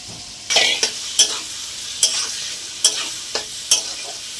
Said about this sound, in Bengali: ততক্ষণ আমরা মশলাটা কষিয়ে নিই